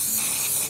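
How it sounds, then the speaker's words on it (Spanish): A short, close burst of cake release spray onto a baking mold, an even hiss lasting under a second before cutting off. "siempre engrasamos súper bien nuestro molde con spray desmoldante o con mantequilla"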